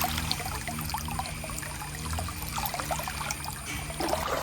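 Water trickling and dribbling along a small stream during rain, a steady close-up babble with light splashes running continuously throughout.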